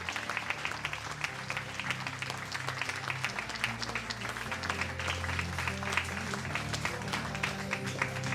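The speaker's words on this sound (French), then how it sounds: "On peut applaudir Sonia de chez Révélation Mariage." An audience claps for a model in a bridal dress at a wedding fashion show, steady moderate applause with background music playing underneath.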